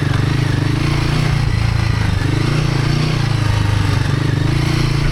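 A Himalayan 450 motorcycle rides in first gear through tight sandy singletrack in Michigan, its single-cylinder engine loud and close with a steady, throbbing drone at a constant pace.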